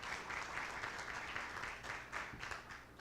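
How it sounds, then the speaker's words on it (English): Steady applause from an audience, a dense wash of clapping that holds for a few seconds at moderate distance. "So let's give them a round of applause."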